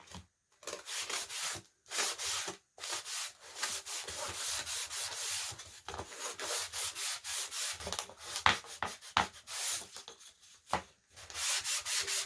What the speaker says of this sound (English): And I'm just wiping the excess paint off of here.